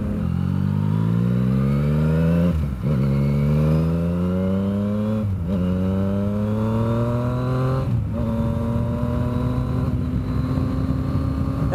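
Triple-engine motorcycle with ride-by-wire throttle, loud and close, pulling through repeated rising revs that break at about 2.7, 5.4 and 8 seconds for gear shifts, then holding a steady drone; no talking.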